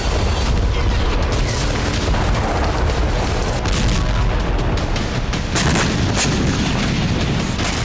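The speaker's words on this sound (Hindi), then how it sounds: "रूस की वायुसेना ने हेलीकॉप्टर से गोलीबारी करके कई ड्रोन नाकाम कर दिए।" Dense, continuous gunfire from a helicopter firing at drones, a loud sustained roar of rapid shots and booms with no pauses.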